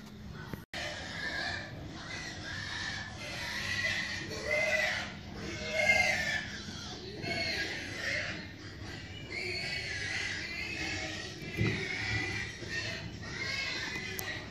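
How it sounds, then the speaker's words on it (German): Pigs grunt and squeal at feeding time in a noisy, overlapping chorus, bursts of snorting and clamor coming in waves, fairly close and continuous. "Die Schweine sind an der Fütterung. Darum dieser Lärm."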